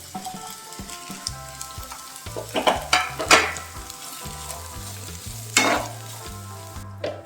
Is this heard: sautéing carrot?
yes